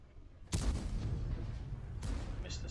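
Two booming tank gun shots in World of Tanks, the first loud and near, the second about a second and a half later, each followed by a rumbling tail.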